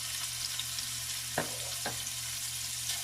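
Carrots sautéing in about three tablespoons of oil on a stovetop over medium heat, a steady close sizzle with two brief louder bursts as the vegetables are stirred or shifted.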